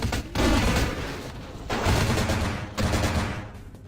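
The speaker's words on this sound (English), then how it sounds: "clearly with all the gunfire, this is progress" Gunfire erupts in the video game Vampire: The Masquerade – Bloodlines, three loud, heavy bursts of rapid shots, each fading briefly before the next volley.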